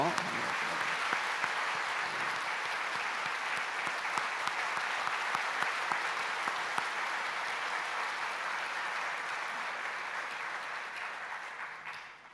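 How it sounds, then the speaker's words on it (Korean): Steady, dense applause from a church congregation fills the room during a pastor's installation ceremony, continuing evenly for several seconds before fading out at the end. "우리 다 같이 박수로."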